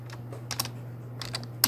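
A computer keyboard is typed on while entering a page header in Microsoft Word, with a few light, scattered keystrokes in two short bursts over a steady low hum, the last click loudest.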